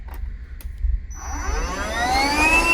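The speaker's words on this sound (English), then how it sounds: "you have an air hose that you can use as what they call the large volume inflator" A DeWalt DCC020IB 20V cordless air inflator runs through its large-volume inflator hose. After a second of quiet handling noise, the motor kicks on and spins up into a loud, steadily rising whine and airy rush.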